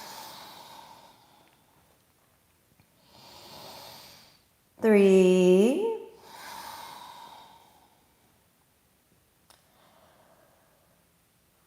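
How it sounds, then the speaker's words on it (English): Slow, deep breathing in downward facing dog during an Ashtanga yoga session: soft airy inhales and exhales, one loud voiced sighing exhale in the middle, and a brief spoken count. "Then curl your toes under and inhale, downward facing dog. We're going to take 5 breaths"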